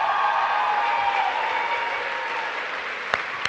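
A large crowd at an Erasmus+ gathering applauds loudly and steadily, the dense clapping slowly easing off, with a couple of sharp louder claps near the end.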